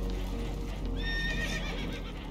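Spooked horses in a video game give one loud, shrill whinny over a heavy low rumble of rough water and the sounds of a boat.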